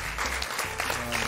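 A studio audience applauds in a steady, dense wash of clapping, brief and fairly even in loudness.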